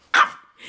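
One sharp, loud dog bark at close range, followed by a faint trailing yip and no talking.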